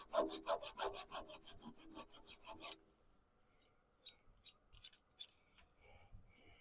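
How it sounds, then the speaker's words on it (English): A hand saw cuts off a wooden tenon on a woodturning piece, a rapid run of rhythmic rasping strokes close up for a few seconds, then stopping into quiet with faint scattered handling sounds. "It's always interesting sawing sideways to the grain."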